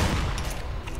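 A magic gun fires in a video game, a rapid burst of booming, crackling shots filling the short moment with heavy low thuds.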